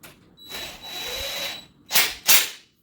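A power drill drives a screw into a metal rod of an L-shaped gaming desk during assembly, running in a steady whir for about a second before two short, loud bursts close by.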